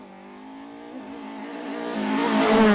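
A 2-litre Toyota Starlet rally car on a Circuit of Ireland stage revs up steadily, its engine note climbing and growing louder as it nears, with no voices over it.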